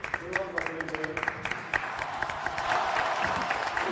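Studio audience applause during an Argentine television interview on Crónica TV, a dense patter of claps that swells and holds steady, with someone talking over it throughout.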